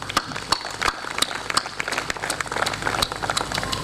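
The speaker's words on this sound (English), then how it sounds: "So big round of applause for all of you, please." A gathered audience gives a round of applause, dense and continuous clapping with sharp individual claps popping out near the microphone.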